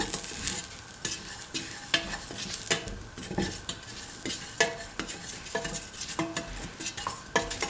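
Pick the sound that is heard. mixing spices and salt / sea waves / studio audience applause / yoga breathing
mixing spices and salt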